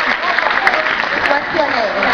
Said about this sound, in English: Can she get a round of applause, please?